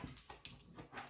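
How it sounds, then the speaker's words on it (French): A pet dog named Lucky coughs indoors in a quick run of short, hoarse bursts, close but fairly quiet, with no one talking. "c'est mon chien qui tousse"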